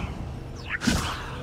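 The Levioso levitation spell is cast in Hogwarts Legacy as a quick rising magical swish. A sharp whip-like burst follows, close and short, fading out within about a second.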